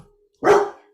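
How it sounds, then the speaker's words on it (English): A single loud, sharp bark from a dog close by, one short burst after a moment of near silence, trailing off quickly with no voices. "That's my dog Scout, one of two"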